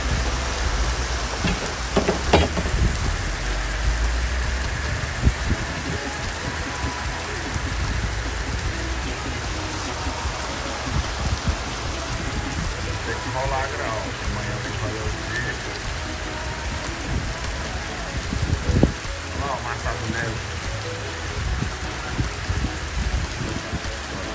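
Heavy rain pouring down steadily, a dense broadband hiss of drops on surfaces with occasional louder splats and knocks; a voice speaks briefly now and then under the downpour.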